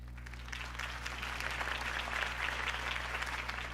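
Crowd applause rises for Harvey Dent's mayoral campaign speech in Batman: The Telltale Series, a steady wash of many hands clapping at moderate volume over a low constant hum, with no talking.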